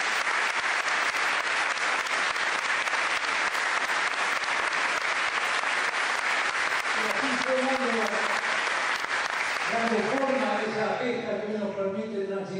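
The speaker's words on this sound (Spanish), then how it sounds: "Para ellos pido también un fuerte aplauso." An audience at a university honorary doctorate ceremony breaks into loud sustained clapping that fills the hall, with a voice starting to speak over the fading applause near the end.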